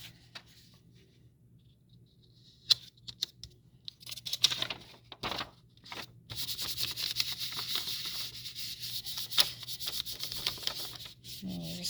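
Paper being rubbed by hand over a large rubber stamp while cardstock is stamped, giving soft, steady scratchy rubbing strokes that become denser and more continuous in the second half, with a few louder brushes and taps and no talking.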